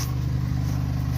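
A Kia Stinger GT with 26,000 miles, a lit check engine light and a cylinder 4 misfire idles with a steady, deep exhaust rumble, close and continuous for about a second.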